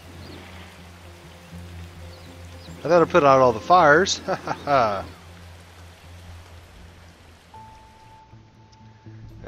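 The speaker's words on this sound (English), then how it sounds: "It's now starting to rain." Steady soft rain falling in the SimCity video game, a constant wash of drops running beneath a short stretch of spoken talk, with a faint tone entering near the end.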